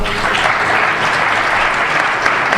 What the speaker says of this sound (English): We give our panelists a round of applause for a wonderful